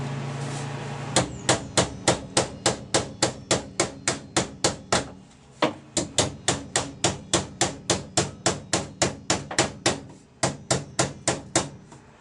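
Steady metal hammering on a Ford Cortina Mk3 Estate body: dozens of sharp ringing blows in a quick, even rhythm, broken by two short pauses, close and loud.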